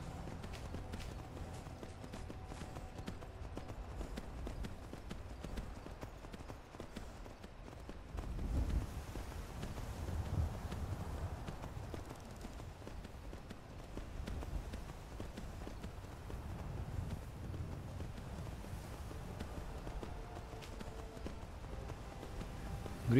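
Horse hooves in the video game Skyrim, a steady clip-clop of a running mount carried quietly under ambient game sound for over twenty seconds.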